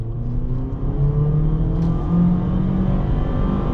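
A 2023 Honda HR-V accelerating at full throttle, its engine droning steadily and rising in pitch, loud and continuous from inside the cabin.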